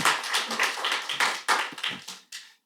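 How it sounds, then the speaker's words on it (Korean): Applause at a parliamentary water forum debate as the moderator is welcomed, a small group clapping in uneven bursts that thin out and stop within a few seconds. "큰 박수로 맞이해 주시기 바랍니다"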